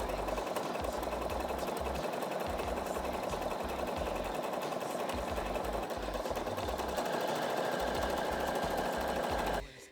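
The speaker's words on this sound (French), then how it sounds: "Une jolie petite boutonnière, comme on aime. Faite avec la machine à coudre, sans effort." Sewing machine stitching a buttonhole, a fast steady mechanical whirring and clatter running continuously at close range before stopping abruptly at the end.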